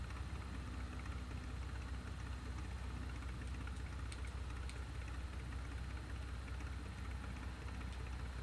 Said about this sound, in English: That engine idling has an interesting sound to it.